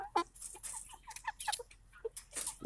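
Red Ranger broiler chickens, hungry before their morning feed, give a string of short, close clucks and chirps in irregular bursts with no talking.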